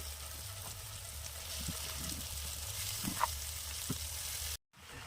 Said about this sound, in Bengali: ভালো করে কষিয়ে নিচ্ছে মশলাটা আর এবার এই যে মাংস দিয়ে দিচ্ছে